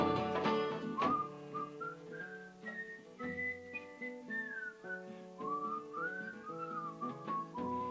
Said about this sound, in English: Little whistling.